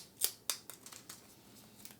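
Sharp, crackly peeling of protective film off a webcam, a few distinct rips at first then fainter crinkles, close and alone.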